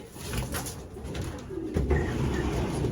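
Pigeons coo softly with low, throaty burbling calls, fairly close, over a light background hiss.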